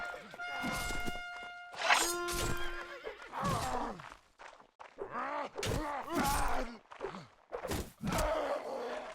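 Horses whinny loudly and repeatedly over the clatter of galloping hooves in the medieval battle game Mount & Blade: Warband, with some thuds mixed in and no talking.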